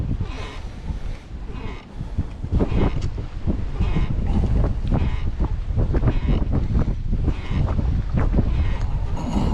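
Steady wind buffets the microphone on a lake during kayak bass fishing from a Hobie Pro Angler, a loud rumbling roar that persists throughout, with faint splashing and brief voice sounds mixed in.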